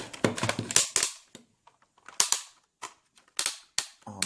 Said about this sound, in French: Alors, notez le bruit des ratchets.